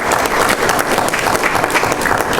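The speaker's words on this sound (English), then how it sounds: "So would you please give him a round of applause as well." Dense, steady audience applause at a child welfare panel event, loud and continuous with a faint crowd murmur under the clapping.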